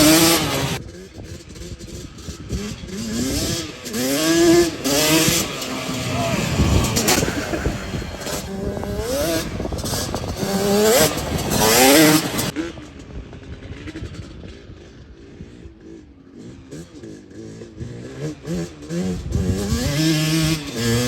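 Custom Yamaha Banshee engine revving hard while being ridden, a loud, fluctuating two-stroke whine rising and falling continuously with rough bursts throughout.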